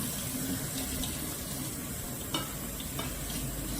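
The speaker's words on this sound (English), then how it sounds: "Turn on your cold water." Cold tap water runs steadily over beans in a strainer, a continuous splashing wash with a couple of brief clunks.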